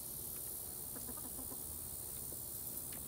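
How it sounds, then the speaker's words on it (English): Backyard chickens in a city farm pen cluck softly in short scattered bursts over a steady outdoor background hum, with no talking. "There's my favorite chicken"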